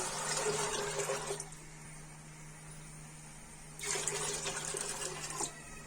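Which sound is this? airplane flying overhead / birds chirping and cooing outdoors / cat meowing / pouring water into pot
pouring water into pot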